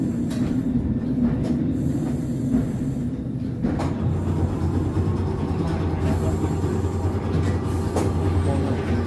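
A Christchurch tram trolley rumbles along its route near Cathedral Square, a steady close rail drone with wheel clatter and a few faint squeals, no one speaking.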